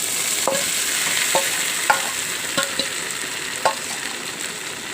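A spoon works through coconut and raw mango chutney ground with green chilies, ginger, cumin and garlic, giving soft scraping and a few sharp taps against the bowl over a faint steady hiss.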